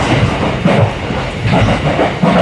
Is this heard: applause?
no